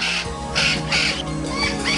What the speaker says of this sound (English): The Puerto Rican parrot, known scientifically as Amazona vittata, is one of the most endangered birds in the world.